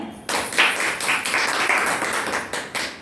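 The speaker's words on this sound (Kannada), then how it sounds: "ಚಪ್ಪಾಳೆ" An audience applauds together in a steady, fairly close wash of clapping that lasts a few seconds, heard at a devotional quiz gathering.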